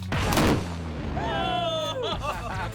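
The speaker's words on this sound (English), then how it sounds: "Those are exploding pants." A pair of trousers rigged with explosives detonates in a sharp, loud blast that rolls out into a rumbling echo, followed by whistling tonal ringing and a voice talking afterward.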